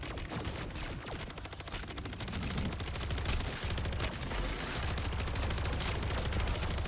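Rapid automatic gunfire from a weapon in MW3 Zombies, a dense, continuous stream of sharp shots rattling without pause, loud and close in the game mix.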